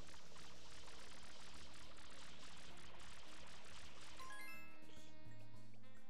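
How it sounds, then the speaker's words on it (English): FLUDD water spraying in the Super Mario Sunshine game, a steady rushing gush of water with game music underneath, the spray noise fading as tonal music takes over near the end. "Okay, time to spray water and"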